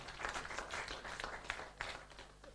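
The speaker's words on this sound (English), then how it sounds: "another round of applause for Engineer Flavia." Faint applause from an audience at a talk show launch event, a brief patter of many hands clapping heard from a distance.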